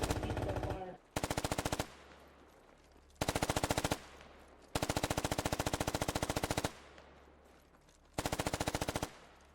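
Automatic gunfire in the military shooter game Squad, fired in several long rapid bursts with short gaps between them, loud and close, with a brief voice at the start.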